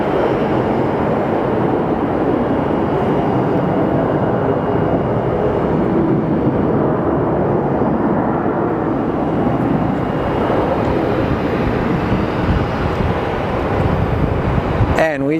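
A Southwest Airlines jet airliner departs Phoenix Sky Harbor, a dense continuous engine roar filling the scene at steady loudness throughout, with a brief sharp sound at the very end.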